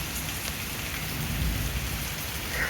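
Steady heavy rain hisses down on surfaces during a severe thunderstorm in Pittsburg, Kansas, with a low rumble underneath and no voices.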